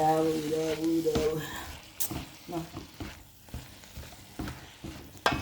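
Cabbage fries in a pan with a steady hiss and crackle, broken by scraping stirs of a utensil at close range; a voice briefly hums or speaks at the start.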